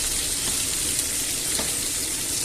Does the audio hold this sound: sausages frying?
yes